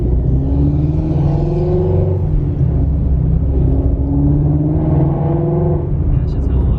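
Ford Mustang GT350 engine and exhaust, a loud deep rumble from inside the car with rising and falling revs as it accelerates, a steady throaty drone throughout.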